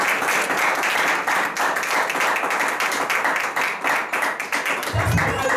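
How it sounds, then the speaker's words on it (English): Church congregation giving a clap offering during a missions week service, loud brisk clapping from many people with sharp individual hits, steady throughout, with a few voices mixed in. "Give Jesus a clap offering"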